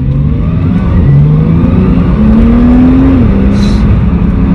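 A Porsche 911 Turbo S with a warm engine revs and accelerates hard, its loud, close engine note climbing through rising pitch steps before dropping at a gear change, with no voices over it.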